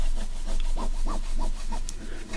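Several short rubbing strokes as washi tape is pressed down over fabric, each a soft scuffing swipe at a steady rhythm, close and moderately quiet, with no talking.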